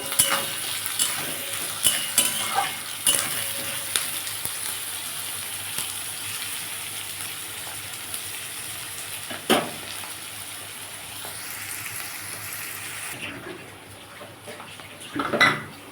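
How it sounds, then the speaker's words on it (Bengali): Onions frying in oil in a pan while making rohu fish chops, a low steady sizzle with occasional spoon clinks and scrapes against the pan, close by and with no talk. "আর পেঁয়াজটা একটু ভেজে নেব"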